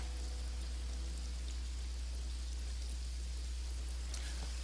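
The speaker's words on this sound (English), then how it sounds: "the rain is loud" Heavy rain in the video game Veil of Crows hisses steadily and loudly, a dense unbroken wash over a deep constant hum.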